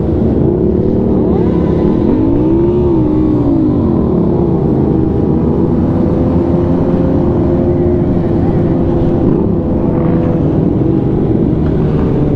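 A motorcycle engine held in low gear, around third at most, on a relaxed Sunday ride, drones loudly and steadily with rising and falling revs throughout, close up and continuous, with wind rush and no talking.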